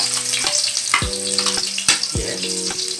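Garlic and onion sautéing in a pan for pancit canton, a loud, constant sizzle with a few louder bursts as the food is stirred.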